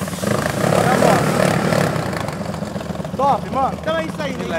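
A 371cc Maiki motorcycle runs at top speed on a highway with a loud, steady engine drone and rushing wind, and its pitch wavers and rises near the end while someone talks.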